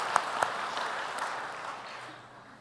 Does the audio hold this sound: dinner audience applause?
yes